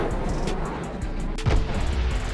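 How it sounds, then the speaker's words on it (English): Missile launching in the Trailmakers video game, a rushing noisy whoosh rising into a louder low thump and rumble near the end, steady and fairly loud without speech. "I guess this is just a missile launching"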